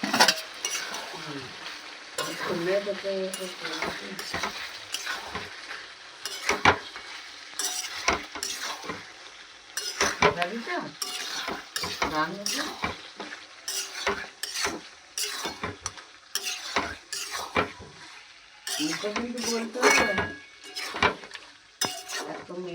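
Meat curry being cooked with fried potatoes, stirred in a pan with repeated sharp scrapes and clinks of a utensil over a steady sizzle, close and fairly loud, with no talking.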